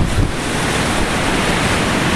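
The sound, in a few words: ocean waves rolling in during Hurricane Sandy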